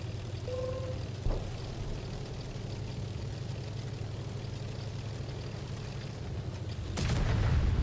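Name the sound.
tank cannon firing in World of Tanks video game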